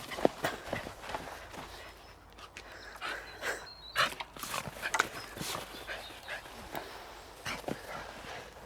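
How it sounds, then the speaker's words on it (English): Dogs run around outdoors on a patio, with scattered footfalls, panting and rustling at close to middle distance, interrupted by sharp knocks and people talking now and then. "Let these dogs run off this energy"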